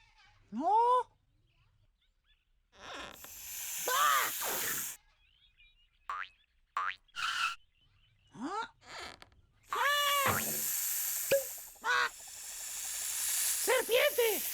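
A cartoon-style snake hiss comes in short bursts among springy boing effects and cat-like meows, with high, airy noise spread across the clip and a voice chiming in between.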